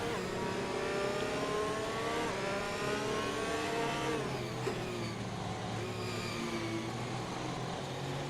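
Race cars circulating behind the safety car in a racing video game at the Hungary circuit, steady overlapping engine drones with shifting pitch as they rev and change gear, continuous and fairly loud with no talk.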